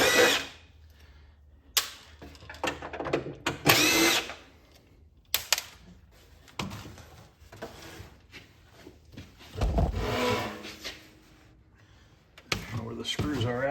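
A power drill on a 2004 CRT television whirs in several short bursts, separated by handling clatter and pauses, with someone talking close by between the runs.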